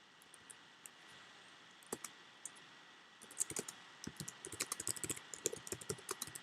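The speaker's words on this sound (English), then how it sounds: "I'm going to type a little message here on the computer" Someone types a message on a computer keyboard. The keystrokes are sparse at first, then become a quick, uneven run of close, crisp key clicks over a faint steady background hum.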